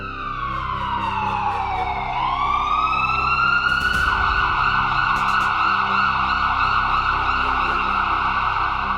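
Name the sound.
ambulance and fire brigade sirens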